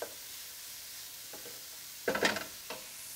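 Spices stirred around in a dry pan for a chicken chickpea curry, a faint sizzle under a few soft scrapes and a louder burst of stirring and frying near the end, with no talking.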